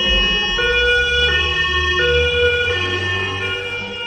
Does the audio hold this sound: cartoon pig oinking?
no